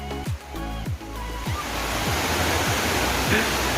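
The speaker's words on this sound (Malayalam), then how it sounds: "നമുക്ക് ആ വെള്ളച്ചാട്ടം മേളീന്ന് വരുന്നതാണ്, നല്ല അടിപൊളിയാണ്" A forest waterfall pours down from above, a dense, steady rushing roar close by; a voice is heard briefly near the start over the constant water noise.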